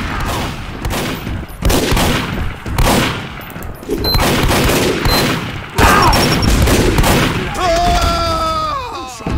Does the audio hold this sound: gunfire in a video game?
yes